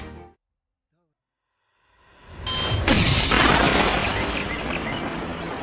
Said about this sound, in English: sound of gunfire echoes among the misty mountains of the Victoria Highlands